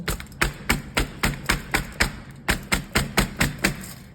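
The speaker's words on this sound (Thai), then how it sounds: "โรยท็อปปิ้งเรียบร้อยเราก็จะ เคาะเขานิดนึง" Steady, evenly spaced taps of a tray of yogurt bark on a counter to settle its toppings, about three sharp knocks per second with one brief pause.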